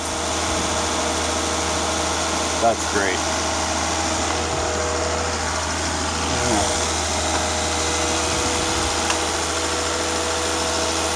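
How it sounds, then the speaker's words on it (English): Volvo XC90 engine idling steadily with a low hum, while the variable valve timing solenoids give occasional faint clicks; a person speaks briefly. "Hear the click, click occasionally? That's the valve timing solenoids working."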